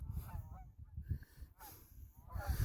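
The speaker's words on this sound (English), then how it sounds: "Low-flying Canadian honkers." Canada geese flying low over a bridge trail, honking in a loose chorus of calls near and overhead, with wind and faint rustle underneath; no clear talking.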